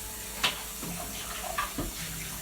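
Tap water running over salad greens being rinsed at a kitchen sink for a Caesar salad, a soft close splashing with a few brief louder spatters.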